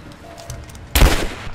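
A single loud gunshot in Rise of the Tomb Raider rings out with a sharp burst and a short, noisy tail, coming after a stretch of quiet ambience.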